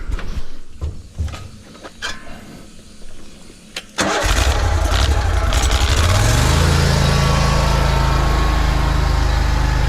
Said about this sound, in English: let's fire up this jetter